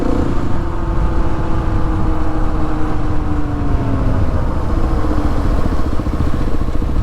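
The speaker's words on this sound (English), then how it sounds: "You can hear that whining or humming of the tires." Dunlop D606 dirt bike tires on a Kawasaki KLX 300 hum and whine steadily on pavement with the clutch pulled in, a loud continuous drone carrying a gliding tonal whine over the engine's low rumble.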